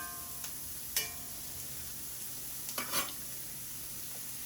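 Prawns stir-frying in a little oil in a cast iron kadai: a soft, low sizzle carries on under a few brief scraping stirs and clinks of a spatula, close but quiet, with no talking.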